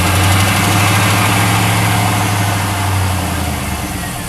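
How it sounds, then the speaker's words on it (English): A Chevy Silverado engine idles steadily with a deep, even rumble and constant vibration, loud and close, with no voices over it. "go ahead and start the vehicle, make sure it starts up and everything's okay."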